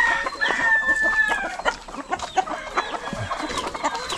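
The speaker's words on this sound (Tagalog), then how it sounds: "Dami na nating manok." A busy farmyard flock of chickens clucking and squawking close by, with a rooster's crow rising over the chatter early on and scattered peeps and calls throughout.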